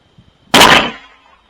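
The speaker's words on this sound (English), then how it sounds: "Nice clean shot just below the eye." A single loud rifle shot fired at a wallaby about 100 yards away, a sharp close crack followed by a brief fading echo, with near silence before it.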